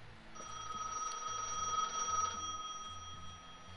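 Payphone ringing in the Gas Station Simulator video game: a steady electronic bell tone rings continuously for about two seconds over a low background of looping game music.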